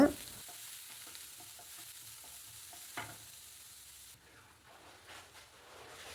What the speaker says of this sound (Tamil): கூடவே வெங்காயம், பச்சை மிளகாய் சேர்த்து நல்லா வதக்கி விட்டுருங்க.